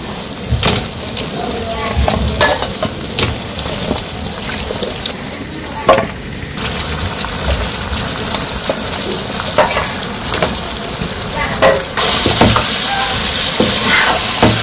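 Mutton pieces frying and being stirred in a spiced pan for a village-style mutton curry, a steady close sizzle with scraping stir strokes and brief clinks throughout, growing a little louder near the end.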